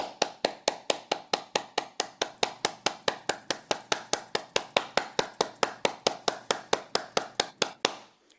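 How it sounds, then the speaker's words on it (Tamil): An audience claps in unison for Dr. Kantha Niranjan at a talk on successful aging. The crisp, evenly spaced claps come at a steady beat of about four or five per second for eight seconds, then stop abruptly. "டாக்டர் காந்தாவை பாராட்டி நாங்கள் 30 வினாடிகள் கைதட்டுவோம்"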